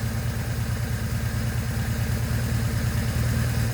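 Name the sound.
BMW R1100S motorcycle engine idling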